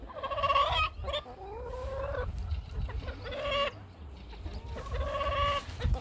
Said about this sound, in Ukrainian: Ось маранчик. А це їхній півник.